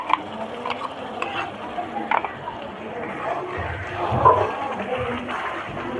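Ground spice paste being stirred into browned onions frying in a pan, with a soft continuous sizzle and repeated scraping stir strokes close by.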